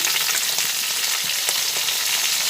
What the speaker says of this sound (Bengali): শিমটা এবার ভেজে নিচ্ছি এক এক করে